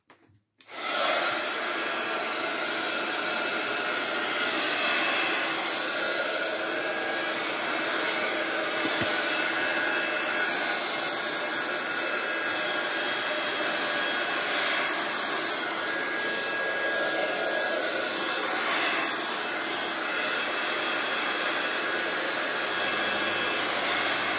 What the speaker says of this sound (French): on va utiliser le heat gun pour sécher tout ça